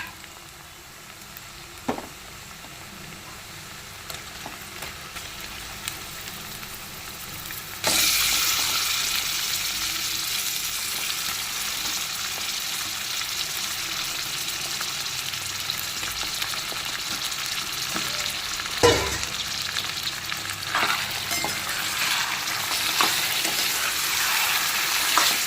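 Mutton pieces and onions sizzle and fry in a pan with occasional stirring, a steady close hiss that jumps louder when the meat goes in and continues with scraping stirs.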